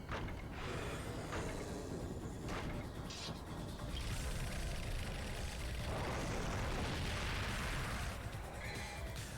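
Grenade gun blasts in Devil May Cry 1, dense booming explosions and crashes layered over continuous loud game music and effects, with no clear gaps between hits.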